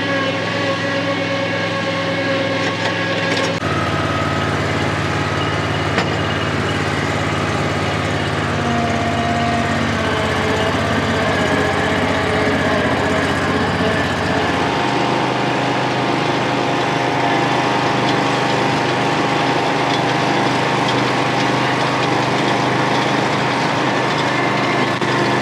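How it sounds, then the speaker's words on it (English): Riding lawn mower rated to mow at 12 miles an hour runs at about half throttle, its engine giving a steady, loud drone with a high whine and a shift in tone partway through, heard alone without talk. "The craziness is this mower is rated to do 12 miles an hour mowing."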